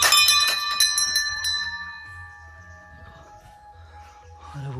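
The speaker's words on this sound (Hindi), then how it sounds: "यहाँ सारी जगह इधर घंटियाँ लगा रखी है" Metal bells at a Hindu hilltop temple, Sem Mukhem Nagraj: several bright strikes ring out close together at the start, then their tones fade and linger, with a few soft footsteps and another faint strike near the end.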